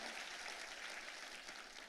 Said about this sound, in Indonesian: Tepuk tangannya yang lebih meriah buat Tuhan kita yang luar biasa.